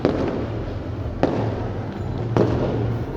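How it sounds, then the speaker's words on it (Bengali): Firecrackers burst during New Year celebrations, two or three sharp loud cracks over a constant crackling, hissing background of more fireworks going off. "তো এরকম পটকা আরো ফুটতে থাকবে"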